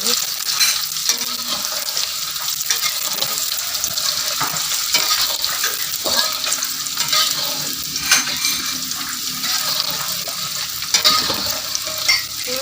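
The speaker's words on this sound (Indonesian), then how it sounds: "brambang karo bawange digoreng." Shallots and garlic fry in a pan with a continuous loud sizzle, while a utensil stirs and scrapes at irregular moments throughout.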